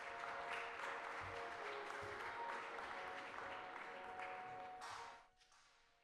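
An audience applauds to welcome a keynote speaker at a C40 Cities urban planning session, steady dense clapping that holds for about five seconds, then drops away abruptly into near silence.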